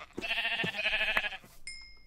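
A sheep bleats in modded Minecraft survival, a single wavering nasal bleat lasting about a second, heard up close and clear, followed by a brief faint chime.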